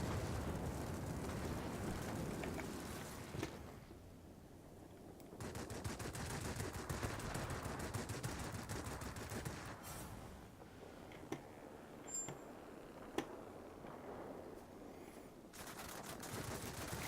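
Machine gun fire during an aircraft dogfight in World of Warplanes, an LA-9 fighter, with rapid bursts of rattling gunfire over a steady engine drone, moderately loud and repeated across the exchange.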